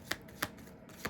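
A deck of playing cards is shuffled, giving three short crisp riffling bursts spaced at uneven intervals, close and moderately quiet, with no voices.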